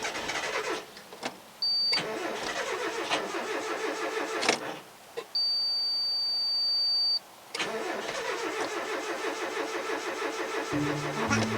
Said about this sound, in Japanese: セルは元気に回っているのに